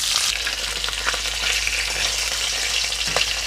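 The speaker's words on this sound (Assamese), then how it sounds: "এনেদৰে মই মাছৰ মাথাৰ টুকুৰা কিটা ভালদৰে ভাজি লম।" Pieces of fish head, rubbed with turmeric and salt, sizzle and spatter steadily in hot oil, a dense continuous frying hiss with occasional stirring sounds and no talk.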